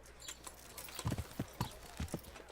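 Horse hooves clip-clop in the medieval game Kingdom Come: Deliverance, a run of distinct thuds at a trotting rhythm, moderately close, over faint background ambience.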